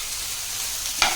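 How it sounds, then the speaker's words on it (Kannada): Vegetables and tomato fry in a pan with a steady close hiss and sizzle, then a brief louder scrape of stirring at the end. "ನೋಡಿ, ಇದು ಫ್ರೈ ಆಗ್ತಾ ಇದೆ ಅಲ್ವಾ."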